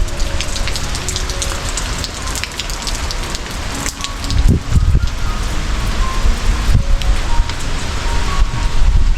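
Steady rain patters over a gusty, rushing wind in trees on an island during a typhoon, with louder bursts of wind noise buffeting the microphone partway through.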